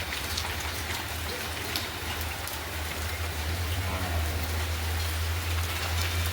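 Steady rainfall hisses evenly with scattered drops pattering on surfaces and a low rumbling hum underneath, no voices.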